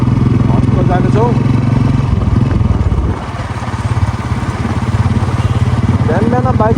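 A motorcycle ridden through the morning streets of Butwal, its engine droning steadily and close throughout, with a voice talking over the ride.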